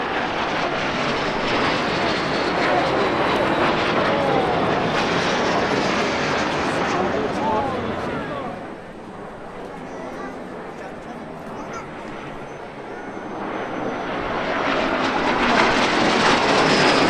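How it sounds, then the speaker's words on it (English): Jet aerobatic aircraft from the Baltic Bees team performing at the Sichuan Airshow, a loud broadband roar that dips midway as the jets pass, then swells again as they return. "The Baltic Bees are currently one of only 4 jet aerobatic teams in the world to perform"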